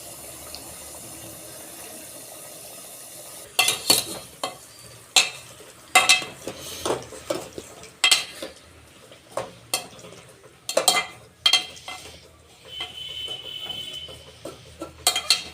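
A spoon scrapes and stirs mutton korma in a cooking pot, sharp intermittent clinks and scrapes after a quiet start, with a soft sizzle underneath, close and fairly faint overall.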